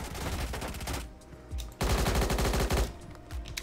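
Rapid automatic gunfire from an AI-generated M4-style weapon in the Roblox game Blackhawk Rescue Mission 5, loud close bursts of shots with a short pause, then another dense burst.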